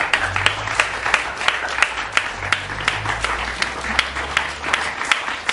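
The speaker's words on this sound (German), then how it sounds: "er hat auch mal an dieser Stelle einen Applaus verdient" Crowd applause at an outdoor vigil, a moderate, steady patter of many hands with a few sharper individual claps standing out, continuing for several seconds with a low background hum.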